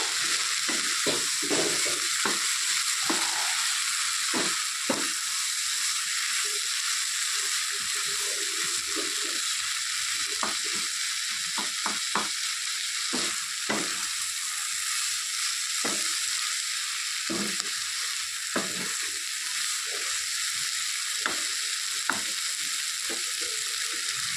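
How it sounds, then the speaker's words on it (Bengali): Onion stalks fry in fish oil in a pan, a steady high sizzle running throughout while a spatula scrapes and knocks against the pan in irregular clicks and taps during stirring. "তো ঢাকনা খুলে আবার একটু নেড়ে চেড়ে দিচ্ছি।"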